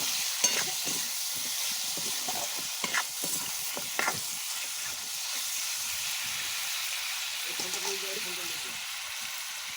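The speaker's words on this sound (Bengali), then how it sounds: "মাংসটা ভাজা হচ্ছে" Meat fries in a pan with a steady bright sizzle and hiss throughout, punctuated by a few clinks of stirring, while someone talks quietly in the background.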